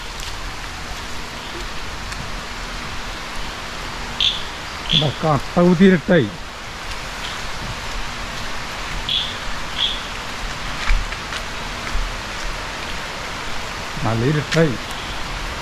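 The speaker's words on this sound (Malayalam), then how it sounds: "മഴ പെയ്തു." Heavy monsoon rain falls steadily in Kerala with a constant hiss, while people talk intermittently over it.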